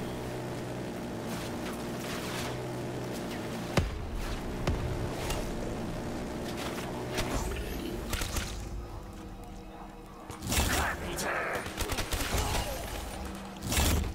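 A rapid-fire gun in a video game lets off dense bursts of gunfire among other game sounds, with sharp cracks, a heavy chattering stretch near the end and brief quieter gaps.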